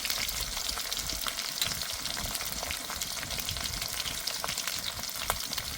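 Slit green chillies, garlic and turmeric powder fry in oil in a pan, a dense steady sizzle with light stirring scrapes, close and continuous.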